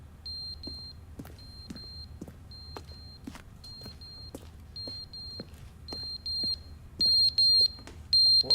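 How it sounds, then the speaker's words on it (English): A smoke alarm in The Stanley Parable: Ultra Deluxe chirps in short, regularly spaced electronic beeps over a low room hum, with sharp clicks scattered between them and the beeps growing louder toward the end. "What's the beeping coming from? Oh, it's a smoke alarm."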